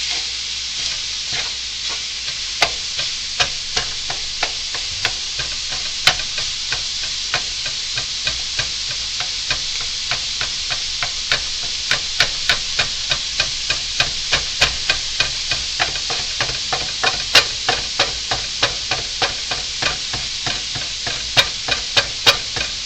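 Onions and garlic sizzle steadily in a pan while being cooked for lasagna, with frequent sharp clicks of a utensil stirring and scraping throughout; no one speaks.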